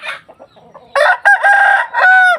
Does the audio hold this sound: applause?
no